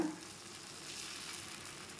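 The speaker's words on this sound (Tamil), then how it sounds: "கல் காஞ்சிடுச்சுங்க, நம்ம தோசை ஊற்றிக்கலாம்" Sweet wheat dosa batter sizzling on a hot griddle, a steady close hiss of frying that fills the whole clip with no talk.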